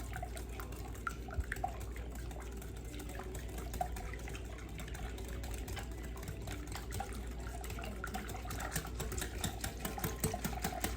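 A coffee mixture is whisked into egg yolks for coffee pots de crème, producing a fast, continuous ticking and sloshing of the whisk in a bowl at close range, steady throughout with no speech.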